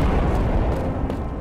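Bomb explosion in a video game: a brief, dense, loud rumbling blast filling the moment with low booming energy.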